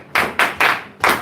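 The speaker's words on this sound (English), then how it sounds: "Give Mayan a round of applause." A classroom round of applause for a student, heard as three loud bursts of clapping hands in quick succession and then a fourth after a short pause, with no talking over it.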